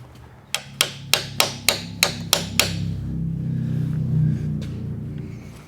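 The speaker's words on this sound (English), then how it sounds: "We're just going to tap it in with a socket." A new motorcycle seal, metal outside and rubber inside, is tapped into place with a socket: eight sharp metallic knocks in quick, slightly uneven succession, then a low rumble with one last faint tap.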